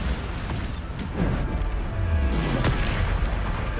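Spell explosions from the Bombarda charm in the video game Hogwarts Legacy, heard as repeated low booms and bursts layered over a busy, sustained combat soundscape.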